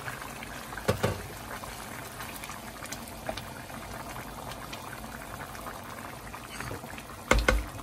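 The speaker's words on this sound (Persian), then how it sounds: "حالا آب فقط به اندازه نیم بند انگشت بهش اضافه میکنیم" Water is poured into a pot of Persian celery rice, a faint, steady hiss and trickle with a couple of soft clunks, no voices.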